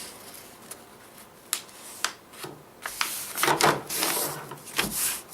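Origami paper being folded into a square: crisp crinkles and sharp creasing snaps arrive in irregular bursts, growing busier and louder toward the end, close and with no voices.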